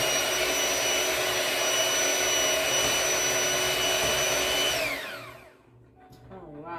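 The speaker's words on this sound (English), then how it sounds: "so now we're gonna take our mixer here, hand mixer. I'm gonna mix that in" An electric hand mixer whirs steadily and loudly through banana bread batter for about five seconds, then winds down with a falling pitch and stops.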